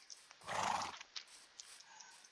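A horse in the Minecraft video game gives one short, breathy neigh, fairly close and alone, followed by a few soft clicking sounds.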